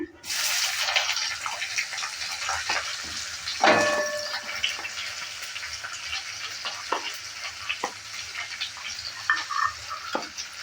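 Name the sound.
onion and garlic frying with dried chilli for jute leaves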